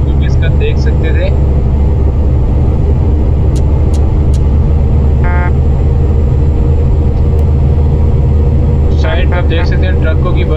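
Truck in the Euro Truck Simulator 2 game driven at about 150 km/h: a loud, constant engine drone and road rumble throughout, with a few brief beeps and tones on top.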